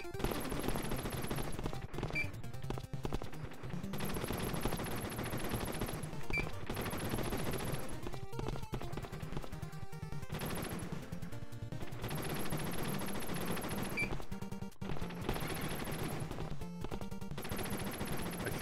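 Rapid bursts of video game gunfire from the fan-made Contra Reforged, steady and loud throughout, mixed with music and effects in dense repeated volleys.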